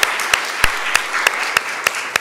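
Applause for a newly married couple inside a church at the close of a wedding, a steady wash of clapping with sharp, evenly spaced louder claps standing out every third of a second.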